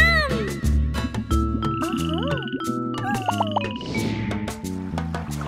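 Cartoonish frog croaks in a children's nursery-rhyme song, repeated rhythmic ribbits over bright backing music and chimes, loud and upfront throughout.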